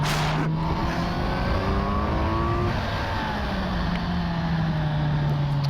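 A Kawasaki Z900 motorcycle accelerates hard, its engine note rising steadily and continuously in pitch, loud and close throughout with no talk.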